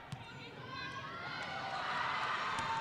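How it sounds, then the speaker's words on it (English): Crowd noise at a women's college volleyball match, Mohawk versus Niagara, swelling gradually into louder cheering in a gym, with sneaker squeaks and a commentator's voice over the din. "Crowd gets loud here."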